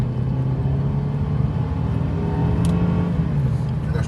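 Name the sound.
Mercedes C300 W205 car accelerating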